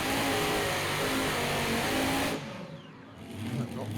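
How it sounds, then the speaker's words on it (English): A pulling tractor roars loud and steady at full power near the end of its run at a Kirkbride power weekend, then cuts off abruptly partway through, leaving a quieter idling rumble and crowd ambience. "You can see the tractor bouncing around as it reaches the end of the run."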